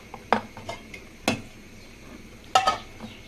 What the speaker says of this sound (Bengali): এই পর্যায়ে ভালো মতো আটার ডুটাকে এইভাবে হ্যান্ড উইচ দিয়ে ভালো করে মিশিয়ে নিতে হবে।